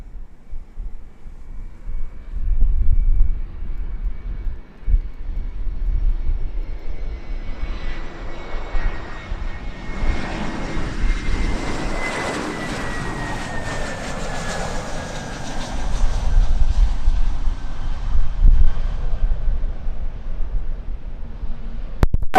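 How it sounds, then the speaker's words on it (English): An Airbus A330 departs Sangster International Airport in Montego Bay, Jamaica, its jet engines building into a loud, broad roar that peaks as the aircraft passes and then fades into a steady rumble with the distance. "The highlight for this video for me is the departure of a A330."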